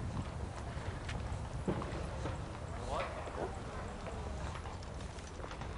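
Quarter Horse hooves clip-clopping on ground during a team penning competition, an irregular run of hoof beats mixed with wind noise and crowd ambience under continuous talk.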